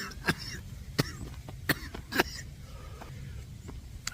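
Someone coughs and clears their throat several times by the polluted Tijuana River, where a foul smell hangs; sharp separate bursts stand out over steady outdoor background noise.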